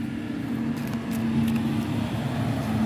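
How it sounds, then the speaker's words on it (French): A tractor drives past on a street near farm fields, its steady low engine rumble filling the scene with a faint hum on top and no talking. "Ah, un tracteur."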